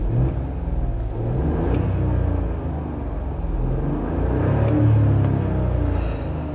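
Hyundai i20 with a 1.0 three-cylinder 120 hp engine driving, a low steady engine drone and road rumble heard from inside, swelling slightly as it accelerates.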